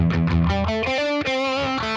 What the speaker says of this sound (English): now you hear that phaser just like that